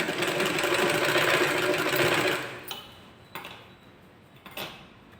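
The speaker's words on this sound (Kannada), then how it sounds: "ನೀಟಾಗಿ ನೆಕ್ ತುದಿಯಲ್ಲಿ ನೀವು ಸ್ಟಿಚ್ ಕೊಡಬೇಕಾಗುತ್ತೆ" A sewing machine stitches along the neck edge of a blouse, running in a loud steady whir for over two seconds, then stopping, followed by a few faint clicks and knocks.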